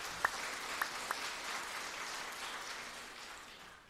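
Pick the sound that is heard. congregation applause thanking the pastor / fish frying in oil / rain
congregation applause thanking the pastor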